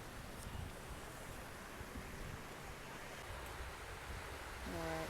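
Calm sea water at a bathing beach in Adelaide gives a soft, steady wash of gentle waves with faint wind rush, quiet and continuous, while a brief voice murmurs near the end.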